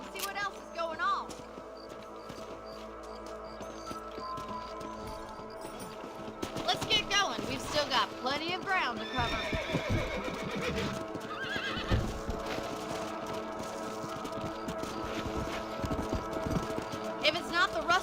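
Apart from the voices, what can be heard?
horses riding in Red Dead Redemption video game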